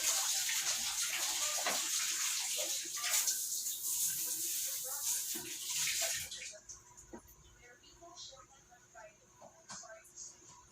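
Water pours into the tub of a 7.5 kg Samsung fully automatic washing machine, loud and rushing for about six seconds before it stops, leaving quieter clicks and small sounds, with a voice speaking.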